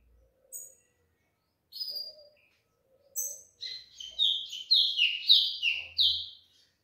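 Ultramarine grosbeaks and other small birds chirp at a feeder, starting with sparse calls and rising into a run of bright, rapid tweets, near and clear with no talk.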